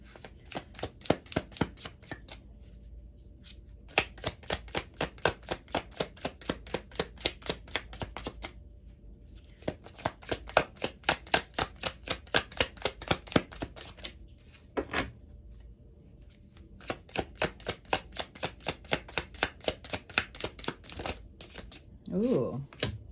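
Tarot cards are shuffled by hand in several long bursts of quick, crisp riffling, separated by short pauses, close and fairly quiet throughout.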